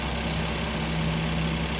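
A Suzuki DA64V engine with a shaking, low-power fault idles close by, a steady droning hum with a low buzzing undertone that holds unchanged throughout.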